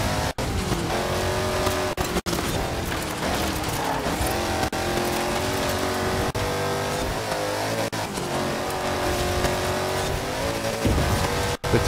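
A race car on its final lap of a circuit in the video game Forza Horizon 4, with the engine roaring and revving steadily through gear shifts and brief dips, loud and close throughout.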